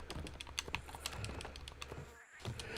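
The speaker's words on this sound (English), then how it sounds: "Let me know if you can hear the clicking of my controller really loud" A game controller's buttons click rapidly and irregularly during a Sea of Thieves session, a close, faint patter of small plastic taps with no talking.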